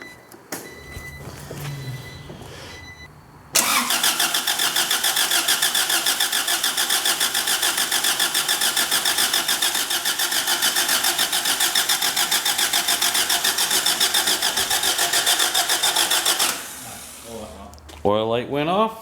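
A car engine with a newly installed B20 VTEC head cranks steadily for priming, a loud, rapid, even churning that runs uninterrupted for about thirteen seconds after quiet shop sounds, then stops; close by, with some faint talk before and after.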